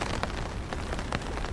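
Rain falls at night at a river ghat in a cartoon, a brief, steady patter of drops on surfaces with a few slightly sharper splashes.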